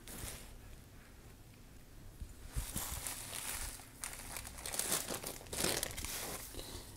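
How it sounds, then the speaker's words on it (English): Bubble wrap crinkles and rustles as it is pulled off a metallic headphone wall mount, starting soft and quiet, then turning into louder bursts of crumpling and crackling up close, with no talking. "Bubble wrap."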